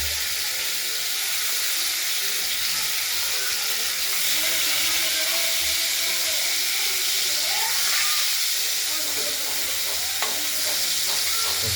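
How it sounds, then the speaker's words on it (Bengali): Rohu fish fries loudly in hot oil, a strong, constant hiss and sizzle with bubbling crackles throughout, close up and without talk. "আমরা রুই মাছগুলো এক এক করে ভেজে নেব"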